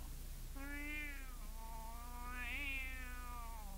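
A domestic cat gives two drawn-out, close meows over a steady low hum, the second rising and wavering longer than the first.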